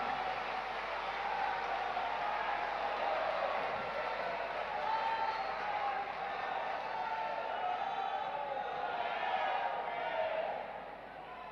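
Large audience at a festival event in Indore clapping with hands raised, a steady, fairly faint wash of applause and crowd noise from a distance that fades near the end.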